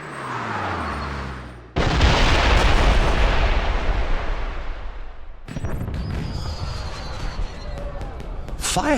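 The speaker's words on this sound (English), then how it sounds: "Did you know there were going to be fireworks?" Fireworks in the James Bond 007: Blood Stone video game burst with loud booms, followed by sustained rumbling crackle that cuts off abruptly and then resumes with sharper pops.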